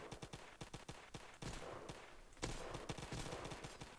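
A new weapon in a Roblox game fires in rapid bursts of close, crisp gunshots that repeat in quick succession, growing denser and louder toward the end.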